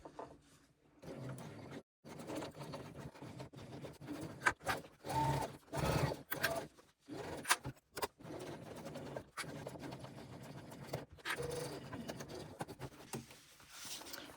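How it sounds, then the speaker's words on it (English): A sewing machine stitching a seam along the edge of a crossbody bag, with a quiet mechanical whir that runs in short bursts broken by brief pauses. "Sewing along this edge at 3/8 of an inch"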